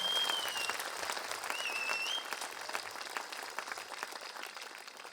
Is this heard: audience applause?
yes